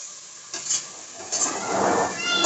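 Macaroni masala sizzles and crackles steadily in a hot pan while a spoon scrapes and stirs through it in short pushes, loud and close, with no talking.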